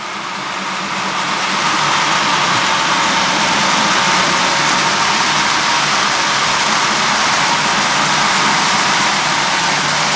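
An HO scale model locomotive runs steadily along its track, giving off a continuous loud motor whir and rolling hum that holds even throughout with no voices.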